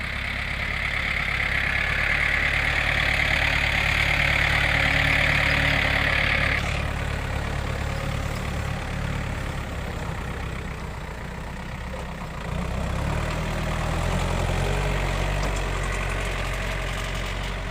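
A Yanmar tractor engine rumbles and idles close by while grading laterite soil for an access road, its steady chugging briefly easing in pitch before building again, with no voices.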